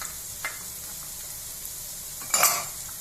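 Beans and carrot stir-fried over a full flame in a pan, a steady low sizzle with one brief scrape near the start and a louder burst of stirring and sizzling toward the end.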